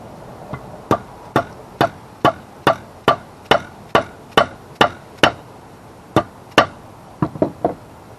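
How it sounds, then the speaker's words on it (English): Sharp metallic taps from a center punch marking drill holes in a metal brace for an aquarium ring out in a steady rhythm, about a dozen close strikes followed by a short quicker cluster. "now I need to take this little center punch here"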